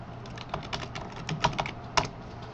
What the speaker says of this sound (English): You type in your code.